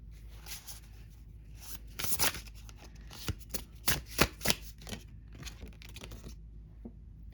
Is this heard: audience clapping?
no